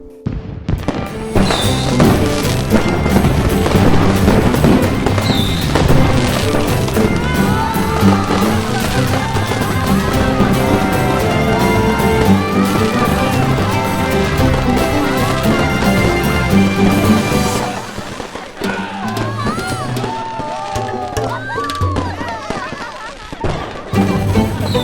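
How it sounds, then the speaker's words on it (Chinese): Fireworks go off outside in an animated fantasy series scene, a dense, loud, continuous crackle and boom over music and effects, easing slightly near the end. "外面在放烟花。"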